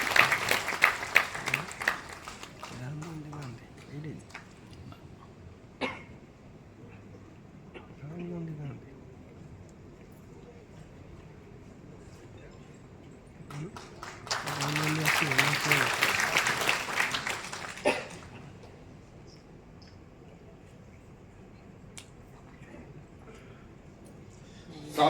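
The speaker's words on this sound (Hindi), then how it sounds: "जोरदार तालियों के साथ आप हमारे नेशनल ट्रेजरर साहब का स्वागत कीजिए।" Applause welcoming a national treasurer at a Congress workers' event, a crowd clapping loudly for a few seconds after a speaker's call, following an earlier shorter burst, with talk in between.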